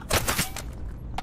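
Several rapid gunshots from a zombie shooter game, a quick burst of three or four cracks up close, then a lower rumble trailing off with one more faint shot near the end.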